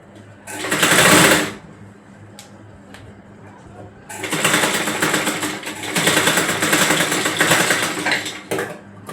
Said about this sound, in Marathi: आता आपण या बाजूने उलट बाजूने एज मशीन मारायची चांगली येतं.